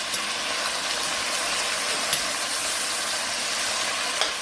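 Beef stew carrots, celery and onions sear in a pot on a stovetop over medium-high heat, a steady close hiss and sizzle running evenly throughout with a couple of faint ticks.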